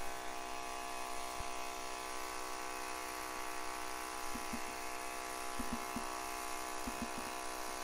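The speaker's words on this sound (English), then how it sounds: "that's what he's looking for as he's running the power trowel right here." A power trowel smooths freshly poured concrete outdoors on a sunny, warm day, its motor giving a steady, even drone throughout, with a few faint clicks and taps scattered over it.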